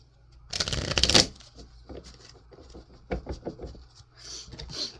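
Oracle cards shuffled for a reading, a quick burst of riffling and papery flutter near the start followed by softer taps and card handling, close and fairly quiet.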